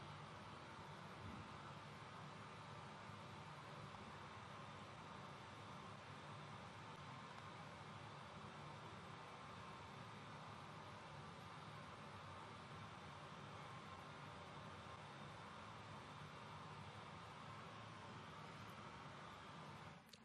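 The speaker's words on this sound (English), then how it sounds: "Второй микрофон и розовый шум." Steady, broadband hiss of a pink noise test signal running continuously at a constant level, with no other sounds.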